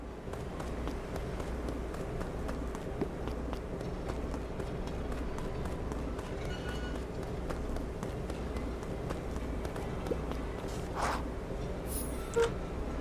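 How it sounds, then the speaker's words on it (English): Footsteps in the Beacon Pines adventure game, a rapid steady patter of running steps over a low ambient hum, continuous and fairly close, with a few faint chimes near the end and no speech. "The sound of footsteps grew louder."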